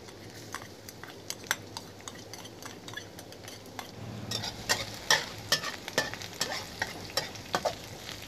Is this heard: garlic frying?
yes